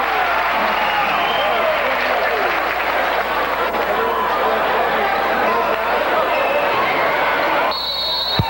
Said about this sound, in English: it's some of the crowd here tonight. Some of the New Trier fans, students